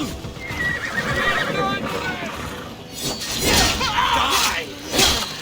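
Horses in Assassin's Creed Odyssey galloping and neighing as mounted guards charge, with loud whinnies and hoof clatter mixed with combat noise and voices.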